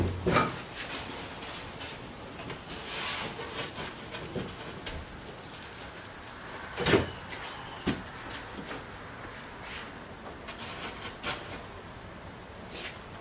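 The insulated doors of a garden cold frame used to overwinter bonsai trees are opened, giving a few faint wooden knocks and clunks with light rustling, the loudest bump near the middle.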